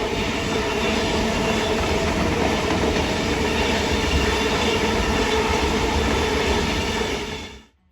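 A Sydney Tangara electric train, a four-car set, passes Petersham station in the morning peak, a loud steady rumble with rhythmic wheel clatter that holds close throughout, then cuts away abruptly at the end.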